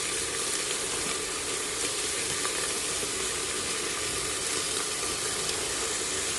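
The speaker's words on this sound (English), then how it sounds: "I will make it in a very high fire and fry very well" Beef frying in a pan over very high heat, a loud, steady hiss and crackle of sizzling fat that fills the whole stretch without pause, close and without talk.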